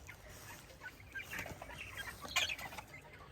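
Chickens clucking inside a chicken tractor out on pasture, a few soft clucks and calls scattered over faint outdoor background, with a louder burst near the end.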